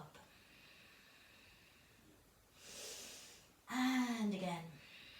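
A person breathes deeply during an exercise workout, with a soft drawn-in breath followed by a louder, forceful exhale with a raspy, voiced edge, close to the microphone.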